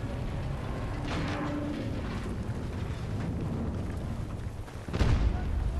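Rumbling blasts from a structure being blown up in Battlefield 2042, muffled and mid-distance under a constant battle din, ending in a heavier, louder boom near the end.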